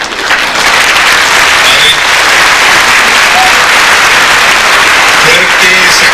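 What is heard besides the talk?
audience applause at a church retreat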